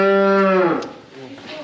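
A dairy cow in a barn pen gives one loud, close moo that fades out, followed by quiet barn ambience.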